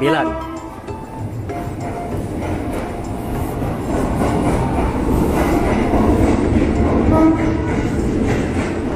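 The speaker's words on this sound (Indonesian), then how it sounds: "Kereta Tegal Bahari bisnis 9." A Tegal Bahari business-class train on the Jakarta–Tegal line passes on rails with a loud rumbling, rhythmic wheel clatter and brief horn-like tones, growing slightly louder midway while voices talk over it.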